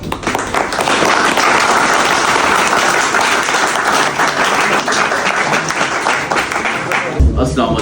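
At a staff appreciation ceremony for Steak Studio, a crowd gives loud, dense, sustained applause for nearly eight seconds, ending with an abrupt thump as it cuts off.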